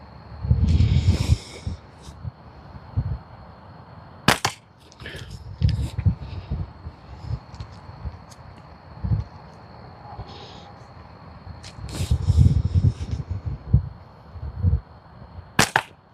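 Slingshot shots hit targets as sharp snapping impacts, about four spread across a quiet outdoor stretch, loud and close, with rustling and handling noise between them and no speech.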